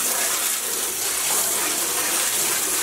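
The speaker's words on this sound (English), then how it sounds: "Let's wash this yarn. I'm gonna pop it in to some water" Water runs steadily into a container for rinsing dyed cotton yarn, a loud, continuous gushing hiss with no pauses.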